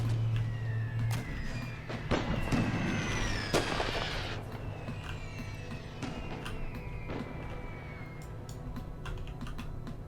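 Artillery shelling in Great War Total War, a First World War strategy game: a busy, steady bed of battle noise with scattered sharp cracks and booms, some near and some distant, and whistling tones drifting through the middle of the mix.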